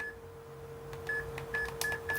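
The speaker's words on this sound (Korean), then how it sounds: "제 거 휴대폰 번호를 한번 눌러볼게요." Keypad presses on a KIS-8610S wireless card terminal, each one giving a short electronic beep as a phone number is entered. The tones fall in an uneven sequence of several quick taps over a steady faint hum.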